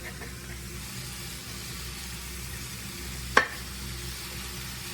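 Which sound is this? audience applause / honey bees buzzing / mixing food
mixing food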